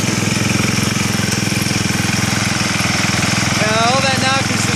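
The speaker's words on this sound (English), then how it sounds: "All that knock is just come from the valve, so it's not bad." A 1967 Case 155 tractor engine idling steadily with a slight valve knock, a loud continuous rhythmic chugging close up, with a brief higher whine near the end.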